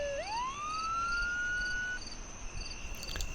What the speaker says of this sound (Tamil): போலீஸ் வண்டி வரும், நிற்க.